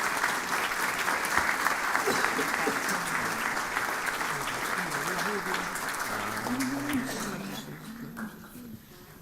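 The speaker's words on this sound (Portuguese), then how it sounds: "Uma salva de palmas." A church congregation at an Advent Sunday Mass claps loudly and steadily for several seconds, with a few voices murmuring through it before the clapping tapers off at the end.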